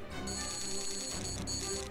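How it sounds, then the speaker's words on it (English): Loud electronic beeping from the Spider-Man: Amazing Allies video game, a steady high-pitched tone repeating with a brief break, heard alone. "that is a loud beeping sound"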